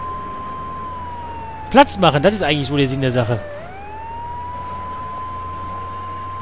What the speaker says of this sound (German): weil ich die fucking Sirene anhab